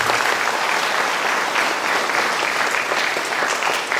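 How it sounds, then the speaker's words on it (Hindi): Parish congregation at a Catholic feast-day Mass applauds loudly to welcome a priest, a full, continuous roar of clapping that holds steady for several seconds. "हम जोरदार ताली बजाते हैं।"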